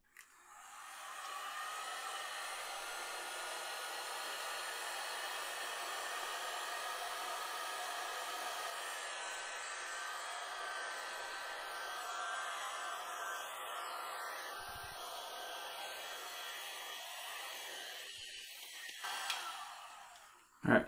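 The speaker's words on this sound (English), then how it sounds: "Let's go ahead and just try to heat this up a little bit without melting anything." Heat gun blowing on custom glass for a Lian Li O11 Dynamic PC case, a steady, continuous airy roar held for about twenty seconds at fairly close range before cutting off with a click.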